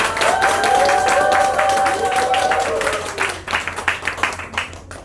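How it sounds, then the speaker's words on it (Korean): Audience applause welcoming a speaker to the stage at a business seminar, a steady wash of clapping that swells and then thins into scattered claps, with a tonal music-like line running underneath early on. "올해와 같은 환호와 함께 박수로 맞이하겠습니다"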